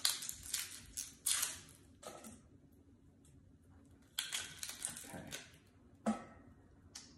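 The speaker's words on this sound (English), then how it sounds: "you can easily peel off this papery skin" Papery skin is peeled by hand from an onion. Faint, crinkly rustles and crackles come in a few short clusters with quiet gaps between them, close by and alone.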